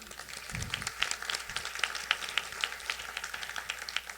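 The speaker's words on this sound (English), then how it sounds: "I think you can applaud that." Scattered applause from an audience at a college Charter Day ceremony, honoring a graduating inductee with health promotion and social studies degrees; moderate, steady clapping of a modest crowd, a little distant.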